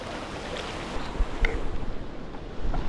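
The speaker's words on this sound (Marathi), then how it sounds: "जोर वाढला रे पाण्याचा." Fast water of a flooded river rushes past in a dense, continuous roar, with low thumps and splashes rising and falling close to the microphone and no voices.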